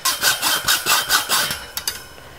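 Cattle panel wire being cut by hand with no power tools, heard as a steady rhythmic rasping, about six strokes at a regular pace, then a few sharp clicks as the last wire gives way.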